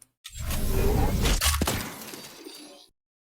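Suppressed gunshot from a modded gun in Minecraft: a single muffled burst with a broad noisy crackle that decays over about two and a half seconds, alone, with no voices.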